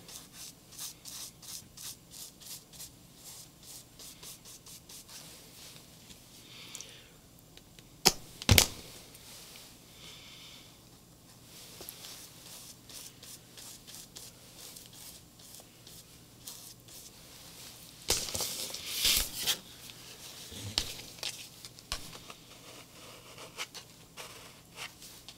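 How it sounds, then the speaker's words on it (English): Hands smooth the wrinkles out of paper in an art journal, making soft, repeated rubbing and brushing strokes, with a few louder crinkling bursts along the way. "Just smoothing some of the wrinkles out."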